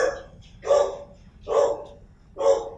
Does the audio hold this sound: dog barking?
yes